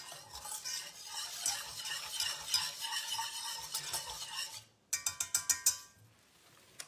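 Loud, rapid scraping and clinking as milk is stirred into curd pancake batter in a bowl, followed by a short burst of sharp utensil taps against the rim.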